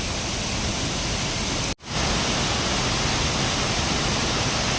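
Waterfall gushing in flood after heavy monsoon rain at a hillside temple area, a loud, dense, unbroken roar of water with one momentary dropout, no voices.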